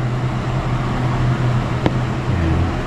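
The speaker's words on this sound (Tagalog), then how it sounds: "Pasensya na sa aking background, maingay yung exhaust fan." A kitchen exhaust fan hums steadily close by as a broad, constant whoosh with a low tonal buzz, and a brief single tap cuts through about two-thirds of the way in.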